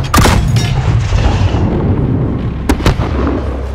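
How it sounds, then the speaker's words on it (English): A rooftop launcher fires a flare in the Call of Duty: Modern Warfare (2019) Embassy mission, heard as a loud opening boom followed by a long rumbling hiss and two sharp later cracks, with no talk. "fire a flare from the launcher on the roof"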